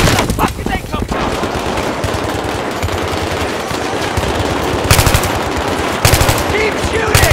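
Sustained automatic gunfire from a Battlefield 3 firefight, loud and continuous with rapid bursts and fusillades layered over one another, close, with shouted voices mixed in.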